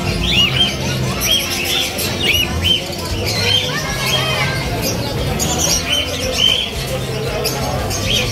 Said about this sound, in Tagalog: ito yung mga ibon ni French Noel